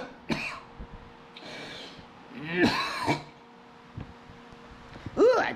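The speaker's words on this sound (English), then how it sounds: "I think that was the first time I coughed in front of you guys" A person coughs and clears their throat a few times at close range, with voiced, irregular bursts and brief breaths between them.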